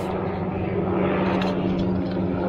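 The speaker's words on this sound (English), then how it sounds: "Here's the helicopter with the chainsaw on it." Helicopter carrying a saw for trimming trees along power lines, heard as a steady loud droning rotor and engine roar, constant and fairly close, with no distinct cutting sounds standing out.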